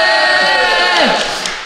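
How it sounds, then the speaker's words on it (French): A crowd at a live podcast show in Rennes cheers and applauds in a broad, steady roar that fades slightly toward the end, with no talk over it. "La foule en délire est toujours là."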